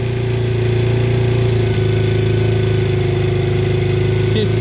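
A Kawasaki Brute Force 650 ATV engine runs loud and close at a steady, rough idle. Its carburetor is likely at fault, and the engine hangs without revving up, keeping a constant throbbing drone.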